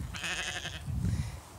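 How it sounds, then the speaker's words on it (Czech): Several sheep bleat together on a farm, a layered chorus of nasal calls close to the listener, followed by low shuffling and rustling as the flock gathers, with no talking. "A přišli na zavolání ovečky."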